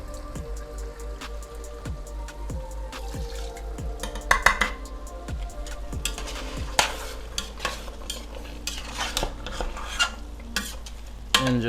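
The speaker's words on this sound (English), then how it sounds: "just let that simmer and reduce" Cauliflower alla vodka sauce simmers in a skillet, a dense bubbling sizzle with steady rhythmic spoon scrapes, then sharper pops and clicks, close and with no voices.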